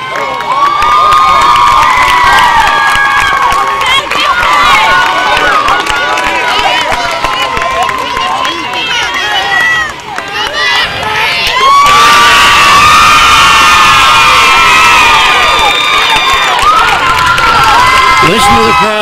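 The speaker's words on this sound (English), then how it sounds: "Listen to the crowd go wild." Loud crowd of spectators at an amateur softball game cheering and shouting, with children's high-pitched yells, sustained and dense throughout with a brief dip midway before surging again.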